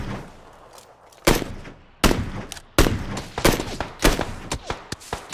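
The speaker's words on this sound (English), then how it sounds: "I'm shooting a dead body." Gunfire in the video game PUBG, a rapid series of loud, sharp shots in bursts that ring out over a low ambient background, some in quick succession and others spaced apart.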